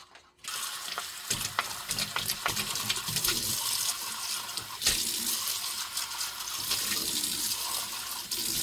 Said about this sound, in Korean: 일단 통을 열어서 깨끗이 씻어 볼게요